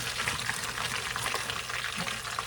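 French fries frying in hot grease for loaded cheese fries, a dense, continuous bubbling sizzle heard up close and alone.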